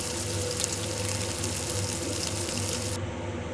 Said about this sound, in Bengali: আমি এবার একটু জল দিয়ে দেবো।